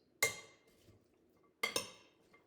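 Walnuts being stirred into a celery salad in a bowl give two sharp clinks of utensil against the bowl, about a second and a half apart, with quiet gaps between them and no talking.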